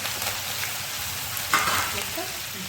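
Mustard seeds and cumin splutter in hot oil, giving a steady crackling sizzle with a sharper pop partway through. It is short and close.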